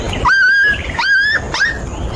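Cartoon dog sounds in three short, loud, tonal bursts, whining, yelping barks that rise and fall, close and alone with no talk.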